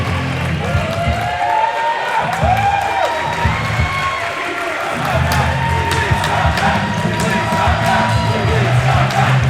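A pro wrestling crowd cheers, whoops and claps continuously in a large venue, a dense roar of many voices with scattered shouts, while a commentator's voice talks over the top.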